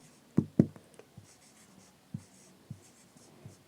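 Pen strokes on paper while a Class 10 math problem is worked out, with two firm taps near the start followed by lighter, scattered scratches and ticks, close and fairly quiet, with no talking.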